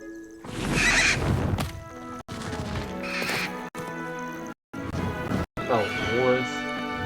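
A horse in the video game Hogwarts Legacy whinnies loudly several times, with snorts and hoof clatter between, in short bursts separated by brief silent gaps.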